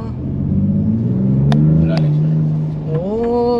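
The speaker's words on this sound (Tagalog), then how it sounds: "Tas ang ganda ng tunog ng exhaust niya" A 2025 Ford Ranger Raptor's 3-liter V6 exhaust revs loud and close, a deep throaty rumble that climbs in pitch, with sharp pops partway through and a rising pull at the end.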